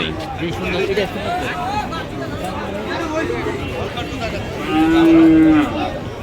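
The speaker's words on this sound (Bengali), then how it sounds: "প্রচুর গরু, প্রচুর।" Frisian cattle at a busy rural bull market in Ambari, Dinajpur, moo in long low calls, one loud and close, over a steady babble of crowd chatter.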